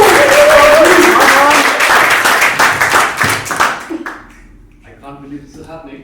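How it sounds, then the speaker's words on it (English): An audience at a public-speaking workshop claps loudly and steadily for several seconds before the applause thins out and fades, leaving scattered faint sounds. "Let's give it a big round of applause."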